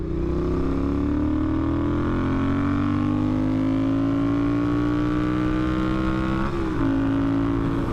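A Triumph Hinckley Bonneville engine runs loud and close on a road test, its droning note climbing steadily in pitch as the bike accelerates, with a brief dip near the end before it settles again.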